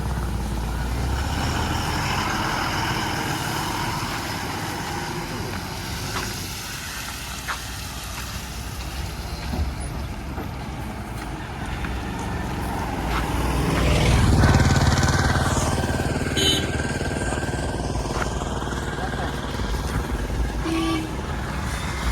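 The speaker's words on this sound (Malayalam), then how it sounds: "ഇനി ഇവിടെ നിന്ന് വണ്ടി എടുത്തിട്ട് അപ്പുറത്തോട്ട് തിരിച്ചിടണം" A vehicle engine runs steadily while the vehicle is turned around to face the opposite direction, swelling briefly louder midway as it manoeuvres, with a few faint higher tones over the continuous rumble.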